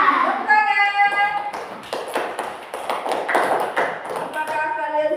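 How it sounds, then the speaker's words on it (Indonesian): Group of schoolchildren clapping hands in a classroom, a dense burst of claps lasting several seconds with a few voices mixed in. "Tepuk tangan."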